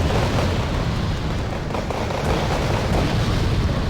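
Sustained artillery shelling in Wargame: Red Dragon, a loud, unbroken wash of overlapping explosions and crackling bursts, deep rumble steady throughout with no pauses or voices.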